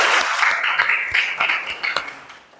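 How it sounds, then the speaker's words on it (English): A class of students applauds together in a classroom, a short burst of clapping with some individual sharp claps, fading out toward the end. "Give applause for you today."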